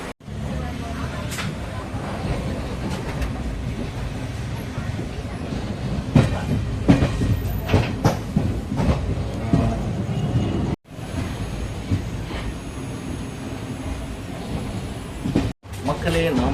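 The Chemmozhi Express runs from Coimbatore toward Mannargudi, with a steady loud rumble and rhythmic clickety-clack of wheels on rail, carriage rattles and brief dropouts, heard from on board.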